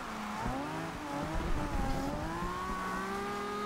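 A 1969 Nissan Fairlady Z tuned for drifting in the racing game Forza Horizon 2 revs and holds high through a slide, the engine note climbing and dipping with faint tire squeal underneath.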